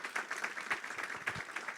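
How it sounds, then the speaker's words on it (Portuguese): Scattered applause from a school community audience at a forum on preventing violence in schools, light clapping spread evenly across a short burst with no voices. "quero pedir palmas aí para a nossa comunidade escolar"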